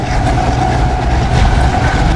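The Pak Business Express train running at speed on the track, heard from inside as a loud, steady low rumble and roar with faint rhythmic wheel clatter, no break in the noise.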